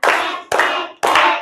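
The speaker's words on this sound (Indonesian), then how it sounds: "Tepuk tangan untuk kita semua." Three loud, close hand claps land at an even pace, each one bright and ringing briefly before the next.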